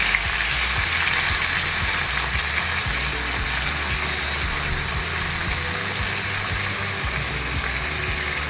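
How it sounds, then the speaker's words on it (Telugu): Drained gongura leaves frying in a kadai, a dense, continuous hissing sizzle that stays loud and close throughout. "బాగా నీరంతా పోయిన గోంగూరని మనం ఏం చేయాలంటే కళాయిలో వేపుకోవడానికి రెడీ చేసుకోవాలి"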